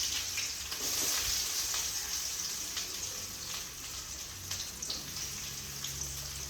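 Garlic cloves and onions sauté in a hot pan for a brinjal curry, giving a steady broadband sizzle that holds for several seconds with a few faint stirring scrapes and no talk.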